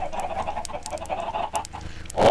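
Chickens in a video game cluck repeatedly, a run of short, close, fairly loud clucks and squawks, with a louder sound rising at the end.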